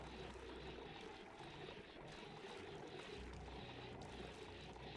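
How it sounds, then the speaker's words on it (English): Water vents erupting in Oxygen Not Included, four at once, a steady broadband rushing and pouring wash that runs unbroken for the whole stretch, dense and fairly loud with no pauses. "It's not very often you see 4 vents going at once just to get rid of water."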